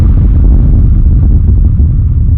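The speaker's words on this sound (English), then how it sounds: "a transient shaper, pushing the attack, a little bit of pump, and turning the sustain down a bit." Hard techno rumble kick shaped with a transient shaper for sharper attack, slight pump and reduced sustain, then hard-clipped; a loud, continuous low-end rumble of pounding kicks with dense sub energy, no talking.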